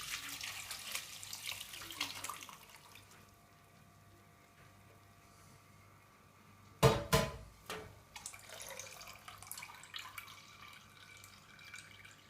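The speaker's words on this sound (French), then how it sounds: "Et on va passer le tout à la passoire." An organic anti-aphid garden preparation is poured through a colander: a sudden splashing pour and trickle breaks a quiet room, then fades to drips and light handling sounds.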